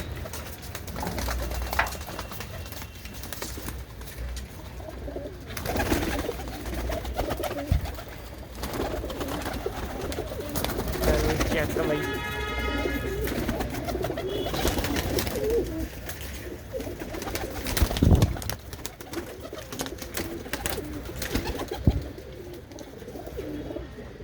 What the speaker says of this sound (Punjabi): ਸਰਦੀ ਦੇ ਵਿੱਚ ਕਬੂਤਰ ਫੁੱਲ ਐਕਟਿਵ